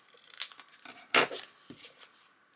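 Scissors cut through paper for a journal craft, a few sharp close snips and crinkly rustles spaced irregularly, with one louder crisp cut in the middle.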